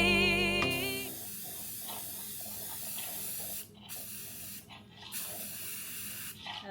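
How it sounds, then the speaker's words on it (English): An aerosol spray can hisses in long, loud bursts with brief pauses while Christmas ornaments are spray painted, preceded by a moment of music. "So I went ahead and spray painted our ornaments"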